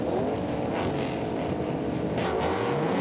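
Race cars at Sandown, including Holdens, an E30 BMW and a Monaro, roar off the line at a race start, a dense layered engine drone with rising revs filling the scene.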